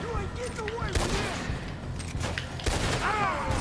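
Gunfire from Red Dead Redemption 2 cracks in a quick volley over dense game noise, loud and close, with a voice talking over the shots.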